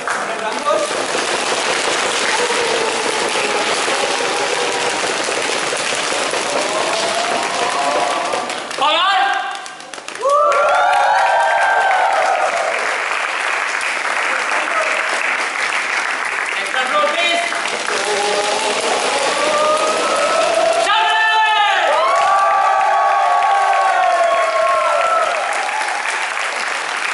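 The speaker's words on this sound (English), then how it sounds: "Can you have a round of applause?" Audience at an executive board announcement claps in long, loud, dense applause filling most of the stretch, with brief breaks where a speaker's voice cuts in.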